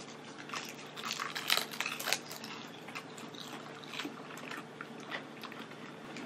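Crispy laver snacks with cod roe and cheese are bitten and chewed close up, giving a run of light, irregular crunches at low volume.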